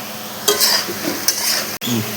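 Potatoes frying in hot oil for a sajne-flower kofta curry, a steady crackling sizzle close by with brief stirring scrapes and clinks of a utensil against the pan, one short break near the end.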